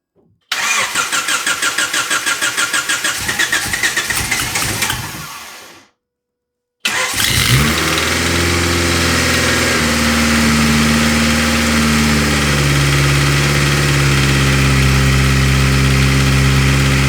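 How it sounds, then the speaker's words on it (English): A turbocharged SOHC Honda Civic, freshly fitted with a big turbo and wastegate, cranks loudly on the starter for about five seconds, falls silent, then fires and settles from a high flare into a steady, loud idle. "I'm going to fire it up and prime the oil up a little bit"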